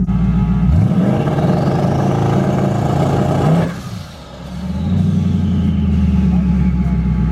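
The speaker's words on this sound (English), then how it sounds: "we're gonna get a little two-step trans brake and bump action" A Ford Mustang engine revs loud and close at a steady high pitch on a two-step trans brake, briefly dips and drops away, then climbs back to a sustained roar.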